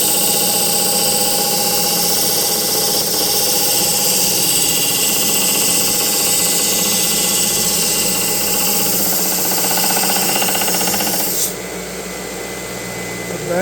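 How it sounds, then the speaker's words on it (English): A Craftsman belt sander with a worn belt seam runs continuously, a loud rough whirring drone with a thumping, uneven texture that shifts in tone near the end. "The banging noise you're hearing is because I need a new belt."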